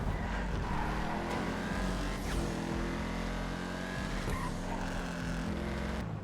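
A Vapid Firebolt ASP rear-wheel-drive pickup truck in GTA Online accelerates hard at full throttle, its engine roaring steadily and loudly throughout with rising pitch and brief gear-shift dips.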